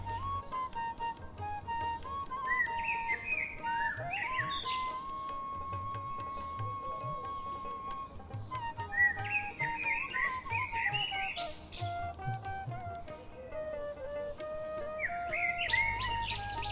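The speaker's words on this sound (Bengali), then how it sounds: "শুধু পাখির ডাকই শোনা যায়" Birds chirp and call in quiet countryside, with short tweeting phrases returning every few seconds and a sustained whistled note between them over a soft, calm background.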